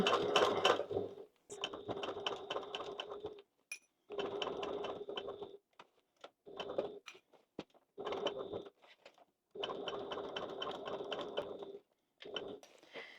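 A sewing machine runs top stitching across the top edge of a small zippered bag, in repeated bursts of steady mechanical whirring separated by short pauses, close and clear with no talking.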